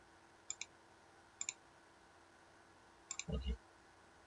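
A computer mouse button is clicked several times in quick double clicks, sharp and close, spaced apart over quiet room tone, with a brief low thump near the end.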